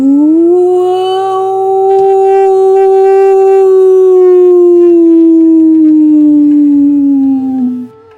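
A single long, loud howl holds steady for several seconds, then slowly sinks in pitch before cutting off. It is heard alone, with no talking.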